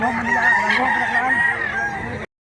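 A blue-legged bullstag gamecock at a cockfighting market in Mantalungon, Cebu, lets out a single loud, close crow that lasts about two seconds and then breaks off abruptly.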